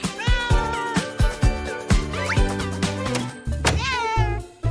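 Cat meowing repeatedly near the microphone, a series of short, loud, rising mews in a quick irregular rhythm, with no talk.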